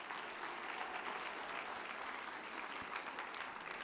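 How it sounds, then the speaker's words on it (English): A conference hall audience at a health insurance enrollment general session applauds, a continuous even wash of many hands clapping, moderately distant and unbroken throughout. "You should give yourselves a big round of applause."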